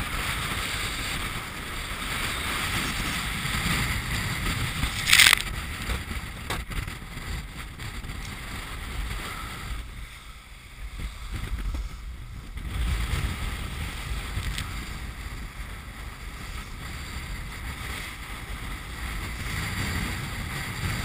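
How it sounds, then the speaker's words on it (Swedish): Strong wind blowing outdoors on a cold early-winter day, a steady broadband rush with microphone buffeting that swells and dips over about twenty seconds, with one brief sharp knock partway through. "Jag tycker vinden känns hårdare idag alltså."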